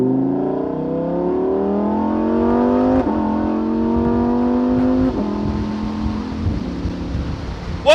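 A 2019 Lamborghini Huracan Evo Spyder in Corsa mode accelerates hard, its engine note climbing steadily through the gears with brief dips at each upshift, loud and close throughout.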